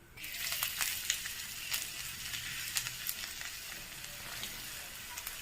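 Chopped ginger drops into hot oil with asafoetida for a paneer samosa filling, bursting into a steady, close sizzle with crackling spits and a few light stirring scrapes.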